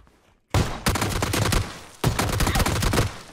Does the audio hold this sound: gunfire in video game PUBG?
yes